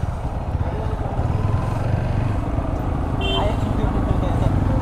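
A motorcycle rides along a road at night on a long-distance trip in Bangladesh, its steady engine drone and road noise continuous throughout, close and fairly loud.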